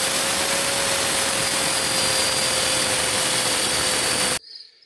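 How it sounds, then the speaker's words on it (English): A power drill runs continuously at a steady high pitch while boring a hole for the exhaust valve of a homemade wind-powered pond aerator built from scrap, then cuts off abruptly near the end. "I'm just going to drill another hole for my exhaust valve"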